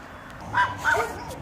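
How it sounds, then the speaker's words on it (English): Neighbor's dogs barking at a suburban homestead yard, two short yipping barks a moment apart, moderately distant, over faint outdoor background. "My neighbor's dogs always bark at me when I'm anywhere working around."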